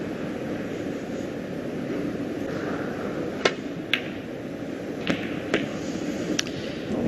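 At the Welsh Open snooker, a few sharp ball clicks ring out as the cue ball strikes and rubs the pink, distinct and fairly close over a steady hum of arena background.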